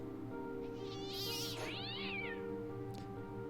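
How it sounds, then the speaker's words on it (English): A cat in the video game Fran Bow gives one long, drawn-out, rising and falling meow over a steady hum of background music. Nobody speaks. "My cat! No, kitty!"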